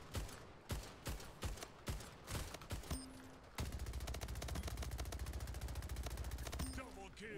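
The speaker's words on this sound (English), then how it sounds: "Why does the SMG shred so?" SMG fire in the shooter Splitgate: a few separate shots and short bursts, then a long sustained rapid stream of rounds, loud and close, with brief electronic game tones.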